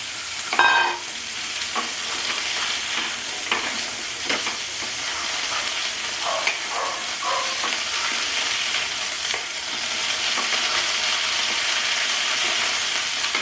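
Okra hits a pan of half-fried onions in a Bengali-style potato and bhindi dish, bringing a steady close sizzle with scattered clinks and scrapes of a stirring utensil, and no talk.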